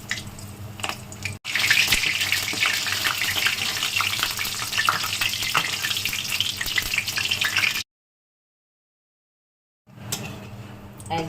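Bok flower (Sesbania) fritters deep-frying in hot oil make a loud, steady, dense sizzle for several seconds, then break off into a few seconds of silence before the crackle resumes.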